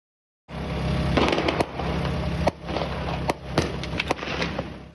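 Sharp cracks of gunfire during an attempted cash robbery at Santiago's Arturo Merino Benítez International Airport in Chile, several loud close reports over a constant background roar, with about five or six distinct bangs.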